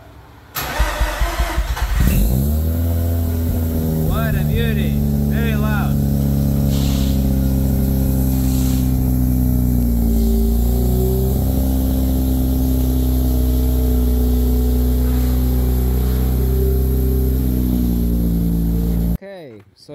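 A Mazda RX-8 rotary engine cranks and fires up after about two seconds, then settles into a loud, steady idle with a few throttle blips, close to the microphone, with people talking over it.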